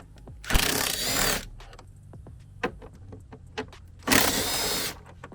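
A power tool, likely an impact or drill, backs out intake bolts and nuts on a 2019-2021 6.7 Cummins during an S&B cold air intake install: two loud, close whirring bursts about a second long, separated by light clinks and handling noises.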